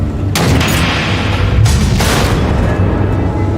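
Missiles exploding in Batman: The Enemy Within, a series of deep rumbling booms with a sharp blast near the start and another around the middle, loud and close.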